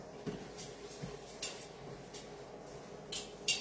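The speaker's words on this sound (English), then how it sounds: "let's go ahead and stir this a little bit more" Risotto stirred in a pot with a utensil, giving faint scattered scrapes and soft clinks against the pan at irregular intervals in a quiet room.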